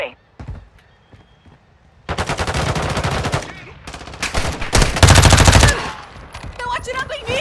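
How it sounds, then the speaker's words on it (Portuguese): Rapid automatic gunfire in a shooter game, loud and close, arriving in dense bursts after a quieter opening with scattered shots, with voices heard amid the shooting. "Estão atirando em mim!"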